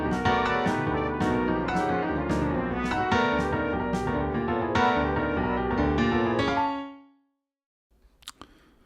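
An orchestra plays a lively, busy passage from the comedy movement of Charles Ives's Fourth Symphony, a Camptown Races fantasy, with rapid repeated attacks. It fades out after about seven seconds, leaving a few faint clicks.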